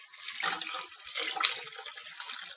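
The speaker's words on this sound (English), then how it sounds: "I'm just going to cover the chilies and tomatoes with water." Water pours from a tap into a cooking pot over chilies and tomatoes, a close, steady splashing gush that rises and falls slightly for a few seconds.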